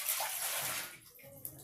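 Water gushing from a pipe into drums, a bright, close rushing splash that fades after about a second, leaving a quieter trickle.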